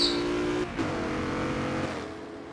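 DTM race car engines from the racing game Rig Racers, a loud sustained engine drone with a shift in pitch early on, then a steady high roar that gradually fades slightly.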